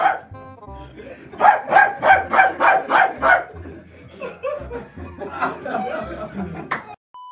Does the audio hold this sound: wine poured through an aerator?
no